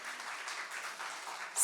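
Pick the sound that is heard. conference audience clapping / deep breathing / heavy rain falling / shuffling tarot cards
conference audience clapping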